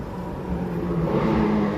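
A car drives past on a busy downtown street at night, a steady close engine whir and road rumble that swells slightly as it nears, with no talk.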